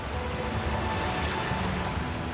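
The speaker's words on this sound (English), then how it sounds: "This is a nice waterfall, by the way." Waterfall in the video game Oblivion Remastered, a continuous broad rushing wash of falling water, steady and fairly loud with no talk.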